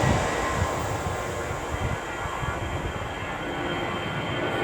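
An EasyJet jet airliner takes off in the distance from near Sheldon Country Park, a loud steady roar lasting throughout with no voices over it.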